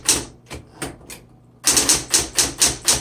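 A 1960s Smith Corona Electra 120 electric typewriter being typed on: a few spaced keystrokes, then a quick run of loud, evenly paced key strikes, with no voices.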